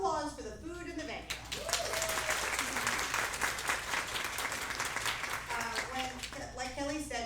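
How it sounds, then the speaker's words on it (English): An audience at an event bursts into sustained applause for several seconds after a speaker's voice, then the clapping fades as talking resumes. "Round of applause for the food and the venue."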